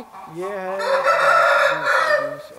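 An aseel rooster crows loudly and close by at a chicken farm, one long wavering call held for over two seconds, with a brief spoken phrase underneath.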